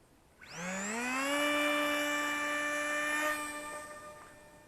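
A FlyBear FX-820 SU-35 RC parkjet with a brushless motor whines up sharply from launch into a steady high-pitched buzz, holding for a few seconds before easing off slightly as it flies.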